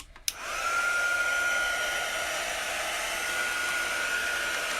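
A hair dryer blows steadily on chalk paste drying on a wooden buffalo plaid leaf sign, switching on with a click and then running loud and constant at close range.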